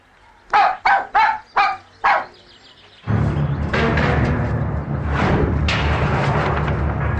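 A puppy by the road gives five quick, sharp barks in a row, then steady loud traffic or crowd noise takes over for the rest.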